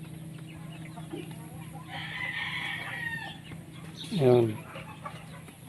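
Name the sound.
free range chickens and turkey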